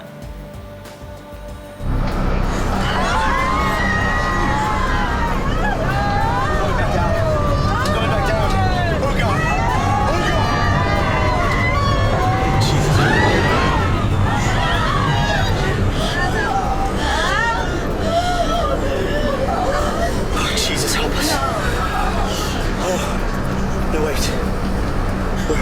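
Commotion of panicked passengers screaming and crying, a loud, dense crowd of overlapping wails and shouts that bursts in after a quieter start and stays chaotic throughout.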